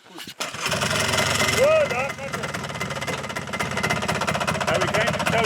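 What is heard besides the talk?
old truck engine running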